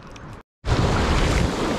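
Large sea waves roll and wash loudly near a fishing spot during a storm, a brief gap cutting off one rush before a heavy, broad surge of surf and wind noise.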